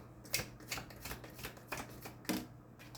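Tarot cards shuffled and drawn during a reading, a series of crisp papery riffles and flicks in an irregular rhythm, close and fairly quiet, with no talking.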